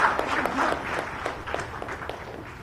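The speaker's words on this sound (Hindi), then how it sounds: "इस वक्त दीप प्रज्वलित कर जोरदार तालियां आपकी तरफ से होनी चाहिए" A crowd applauds loudly after a ceremonial lamp is lit at the launch of Jharkhand's new sports policy in Ranchi, giving a dense, continuous patter of many clapping hands that eases off slightly toward the end.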